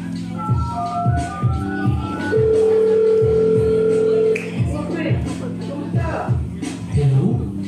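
Telephone keypad dialing to call a friend, a run of short beeps followed by a long steady tone, with rhythmic thumping music underneath.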